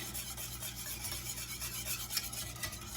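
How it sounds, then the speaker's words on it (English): A whisk scrapes steadily around a pot of thickening tapioca pudding, giving a continuous close-up rasping and stirring sound with no talking. "More whisking."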